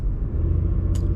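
Engine of a 2023 Honda Pilot Elite SUV held on brake torque at about 1700 RPM before launch, a steady low rumble close by, alone without talk.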